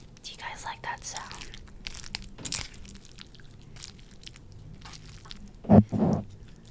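A crunchy bite into food topped with cucumber during an eating session, a single loud crisp crunch near the mic followed by chewing, with soft whispers earlier.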